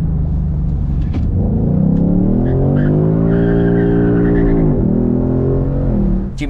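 Ford Mustang GT 5.0 V8 convertible sliding with tires skidding and squealing, a loud continuous screech over the rumbling eight-cylinder engine lasting several seconds, with no talking.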